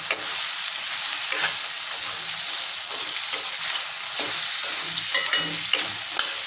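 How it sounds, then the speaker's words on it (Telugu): Prawn and drumstick curry simmers on a low flame, giving a loud, steady bubbling sizzle broken by repeated stirring scrapes across the whole stretch, with no speech. "ఇప్పుడు స్టవ్ సిమ్లో పెట్టుకుని ములక్కాడలు కొంచెం మగ్గేదాకా ఉంచుకోవాలి."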